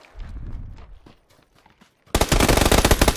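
Rapid automatic gunfire in PUBG erupts loud and dense in the second half, a sustained burst of crackling shots after a quieter stretch of low rumble and faint scattered sounds.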